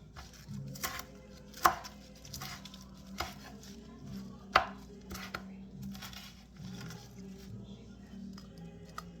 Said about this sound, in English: I'm just chopping it up into some really small little bits.